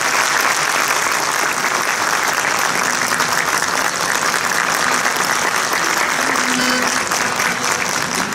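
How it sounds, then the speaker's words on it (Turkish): Concert audience at a special concert applauding steadily, a dense and loud clapping wash lasting the whole span with a faint crowd murmur underneath. "Alkışlarınız, polisiniz Erdal Yıldız."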